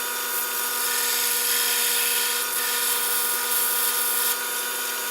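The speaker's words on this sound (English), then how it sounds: "I'm going to throttle off a little bit, and that'll push my grinding toward the edge" A grinder works a knife blade, its high, steady whine sustained and loud at close range. The tone stays fairly constant, with slight shifts as the grinding is pushed toward the edge, and no one speaks.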